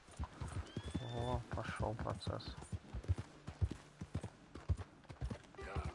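Horse hooves clip-clopping at a gallop in Red Dead Redemption 2, a steady rapid rhythm close by, with someone talking over it and a brief whinny.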